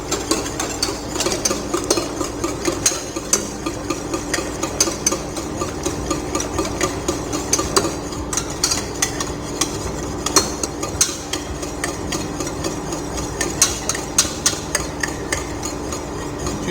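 A utensil stirs pastry cream steadily in a pan over low heat, making a continuous scraping and tapping rhythm, close and fairly loud, with no talk.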